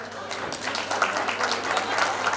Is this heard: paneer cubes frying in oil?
no